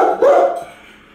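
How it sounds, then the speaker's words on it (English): A single loud, close dog bark that quickly fades into a quiet room. "What is Buster barking at?"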